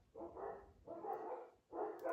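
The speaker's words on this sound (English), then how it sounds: "Listen to those dogs." Several dogs bark in three bursts of repeated, overlapping barks with short pauses between them, fairly close and loud, with no talking over them.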